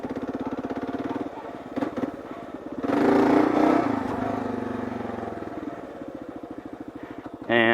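A big, heavy Kawasaki KLR650 dual-sport motorcycle rides off-road on a dirt trail, its single-cylinder engine thumping at low revs, then swelling into a louder rev burst before dropping back to a chugging pulse.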